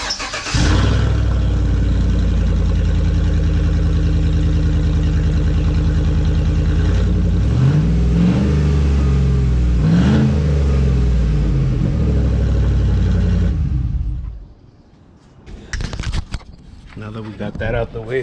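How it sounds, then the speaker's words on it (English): Chevrolet Silverado Z71 V8 truck running on just a white pipe during a header install, a loud start then a steady throaty idle with a couple of revs, cut off abruptly, followed by clanks. "we decided just to turn on the truck. So this is the truck with just the white pipe"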